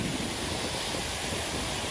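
Small waterfall on a side creek in Iceland, heard as a steady, continuous broadband rush of falling water, close and fairly loud, with some wind noise and no speech.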